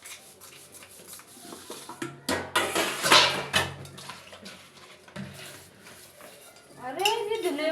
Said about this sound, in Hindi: अब मैं इधर बर्तन मान रही हूँ